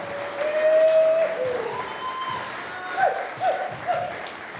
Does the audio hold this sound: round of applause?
yes